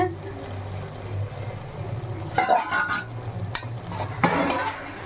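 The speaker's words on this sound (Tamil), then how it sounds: "எறாவை போட்டு வதக்கிக்கலாம்." Prawns are sautéed and stirred in a pan for a radish and raw banana curry, with close clinks and scrapes of a utensil against metal over a low background hum.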